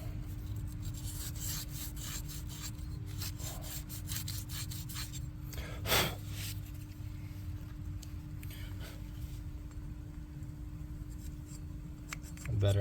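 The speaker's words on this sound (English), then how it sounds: "I'm gonna get a little piece of sandpaper in here and clean this up." Sandpaper rubs a brass irrigation valve part at close range, making a steady gritty scraping that runs almost continuously, with one sharper swipe midway and a low hum underneath.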